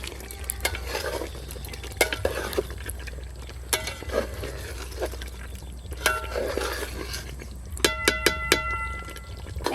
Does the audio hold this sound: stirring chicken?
yes